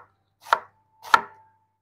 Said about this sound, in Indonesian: untuk bawangnya ini saya mau potongnya pak gini aja ya